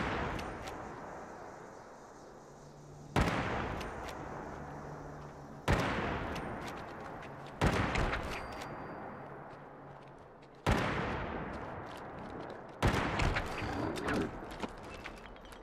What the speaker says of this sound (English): I got the loud gun.